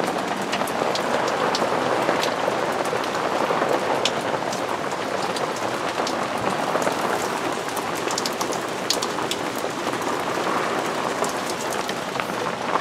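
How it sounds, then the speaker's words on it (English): Steady rain falls outside a back step, a dense even patter of drops on surfaces and a shelter overhead, constant and close for the whole stretch with no talking. "It's raining today"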